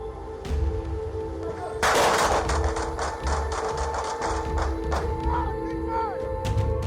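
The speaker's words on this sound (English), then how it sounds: "Shots fired, come take it." Gunshots fired during a police confrontation, captured by a dashcam: a loud blast near the start of the clip, followed by further sharp thumps over steady road and engine noise.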